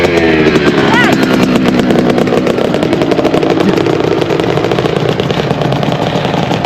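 Several small dirt bike engines rev and idle together at a motocross track in Fairfax, South Carolina, on a cold day, a dense continuous buzzing with rapid popping pulses, loud and close throughout.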